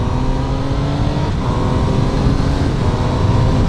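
Triumph Trident 800 motorcycle accelerating hard with quick-shifter gear changes, a loud, steady engine roar heard close with a brief dip at the shift.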